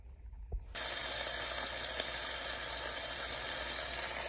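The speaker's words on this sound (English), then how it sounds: "Frying some salt pork and a bit of salt beef." Salt pork and salt beef fry in a pan, a steady, close sizzle that starts abruptly after a short quiet moment and then crackles evenly, with no one talking.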